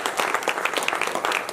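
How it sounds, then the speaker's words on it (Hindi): Audience at a Bhagavat katha breaks into brisk applause, many hands clapping in a dense, fairly close burst with no voices over it. "एक बार ताली बजाएंगे।"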